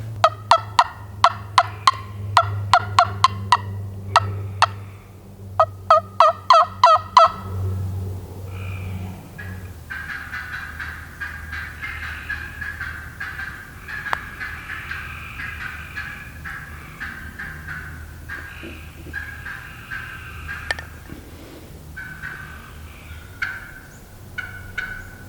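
A wild turkey hen calls in a wooded setting, with a run of sharp, rhythmic yelps in quick bursts followed by softer, scattered clucks and purrs that fade somewhat, sounding fairly close and unaccompanied by talk.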